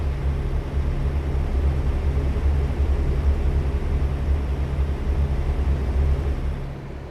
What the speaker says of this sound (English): This truck does sound fantastic as well, that low growl.